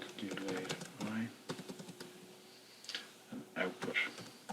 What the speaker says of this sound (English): My typing isn't very good there.